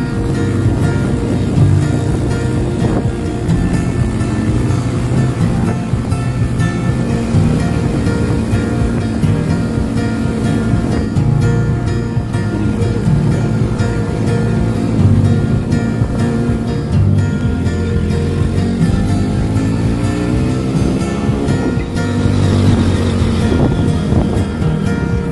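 Motorcycle carrying a passenger up a rocky mountain road on Mount Sindoro via Alang-alang Sewu, its engine droning steadily and loud throughout with rough, jolting road noise and wind buffeting, no talking.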